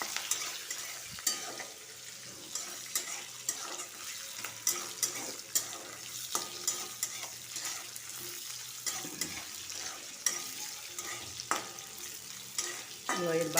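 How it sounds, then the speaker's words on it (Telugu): Tempering spices sizzle in hot oil for Telugu pappu pulusu, a steady crackling fry broken by frequent scraping stirs and clinks of a spoon against the pan, close up with no talking. "ఇప్పుడు ఈ పోపు వేగింది కదా బాగానే."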